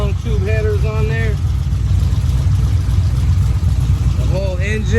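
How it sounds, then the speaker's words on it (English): A 2010 Chevrolet Camaro SS V8 with long tube headers idles steadily with a deep, loud rumble that never lets up, while someone speaks over it at the start and again near the end. "Motor's running. It sounds really good with the long tube headers on there."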